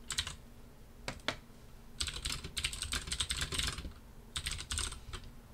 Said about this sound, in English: I can just type this.